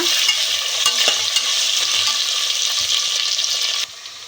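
Three sliced onions frying in hot oil for chicken biryani, a loud close steady sizzle with light stirring taps, cutting off abruptly near the end, no one speaking.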